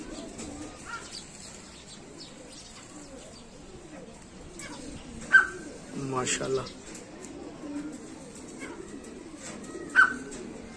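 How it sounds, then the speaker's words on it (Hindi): Sialkoti pigeons coo and chirp in a loft, soft calls scattered through the stretch with a brief flutter of wings near the middle, while someone talks over them. "सियालकोटी कबूतर माशाल्लाह बहुत पसंद करते हैं"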